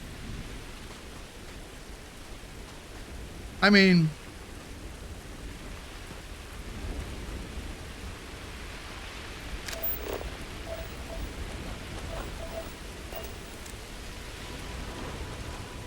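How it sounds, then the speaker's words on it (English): Freezing rain hisses steadily in a video game setting with palm trees, with one sharp, loud crack of thunder near the start and a few faint ticks later, and a brief spoken word on top. "Apparently, it is freezing rain."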